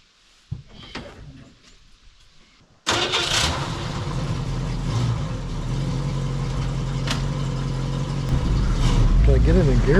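A 1968 Ford Mustang, rust-pitted, fires up after a few seconds of quieter handling sounds and settles into a loud, steady engine idle that rumbles on, rising slightly near the end as it is moved inside.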